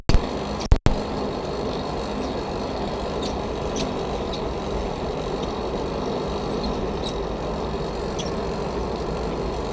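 A heavy freight train passing near a blacksmith's smithy, a loud continuous low rumble and roar that holds steady throughout, with a couple of sharp knocks at the start.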